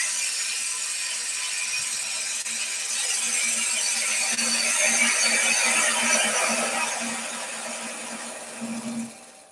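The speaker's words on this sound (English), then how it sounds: "I'm pushing up the length of the tool. and that sends that gouge forward." A woodturning gouge cuts timber on a spinning lathe, giving a continuous rough, hissing scrape over a low motor hum that swells in the middle and fades near the end, with no voices.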